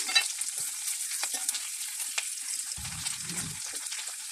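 Mustard seeds, onion and curry leaves fry in hot oil with a constant crackling sizzle up close, broken by a few stirring scrapes and a brief low rumble near the end.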